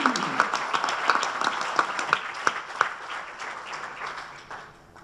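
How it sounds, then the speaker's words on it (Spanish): Applause from an audience at an anniversary tribute ceremony in Isla Cristina, a crowd of clapping hands with distinct sharp claps standing out, gradually thinning and fading toward the end. "Un gran aplauso para todas ellas."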